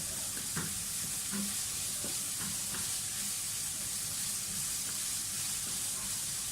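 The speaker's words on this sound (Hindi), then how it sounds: "प्याज को हमें इतना फ्राई करना है कि अपनी रंगा चेंज कर ले" Onions frying in oil in a pan for gola kabab, a steady soft sizzle with hiss throughout and occasional light clinks of a stirring spoon, close and fairly quiet.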